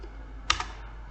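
A computer keyboard being typed on during a network lab setup, one or two quick close key clicks against a quiet hum.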